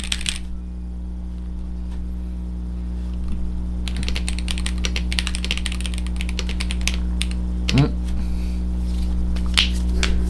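Typing on a newly replaced computer keyboard, starting with a few scattered clicks, then dense rapid keystrokes from about four seconds on, close and loud over a steady electrical hum.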